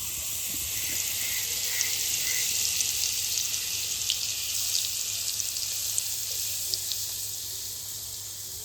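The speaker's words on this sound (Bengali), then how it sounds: "তেল গরম হয়ে গেছে, এরপর এই পেস্টটা দিয়ে দেবো।" Spice paste fries in hot mustard oil with a constant high, bright sizzle and hiss and scattered tiny pops and crackles. It stays close and steady with no talking.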